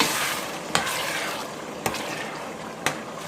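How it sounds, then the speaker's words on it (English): Tomato stew for Nigerian jollof rice frying in a pot, a steady soft sizzle and bubbling broken by three sharp clicks of a spoon against the pot, close and fairly quiet with no speech. "So this stew has been frying for like 8 to 10 minutes now."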